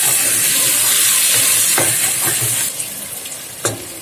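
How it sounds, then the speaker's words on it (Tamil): Tomatoes sautéing with salt in a pan for mutton biryani, a steady loud sizzle with a few scraping stirs of a spoon, the hiss easing slightly toward the end. "இப்போ தக்காளி நல்லா வதங்கிடுச்சு"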